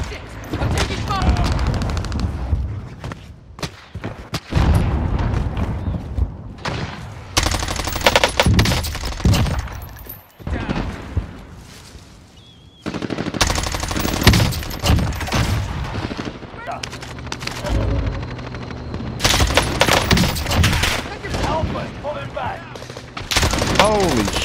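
Heavy gunfire in Call of Duty: Warzone with an XM4 rifle, sustained loud bursts and fusillades with booming impacts, broken by short pauses, while a voice talks over the shooting.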